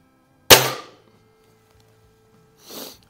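Air rifle pellets fired from an Anschutz 335 spring air rifle strike a half-inch plywood target, giving a sharp loud crack followed by silence and a softer burst about two seconds later.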